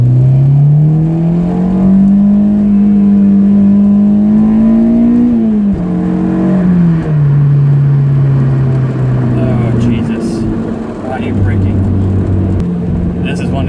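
A Honda S2000 engine pulls loudly from inside the car on a scenic road, its pitch rising steadily through the revs, dipping at a shift, then climbing again, with a rougher rush toward the end.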